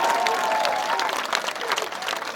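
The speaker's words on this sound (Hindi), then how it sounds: "बजाओ ताली, पीछे से बजाओ ताली।" Men in the crowd at an outdoor public rally in Chiloth, Shivpuri, clap as a diffuse wash of applause with general crowd noise, and voices run underneath.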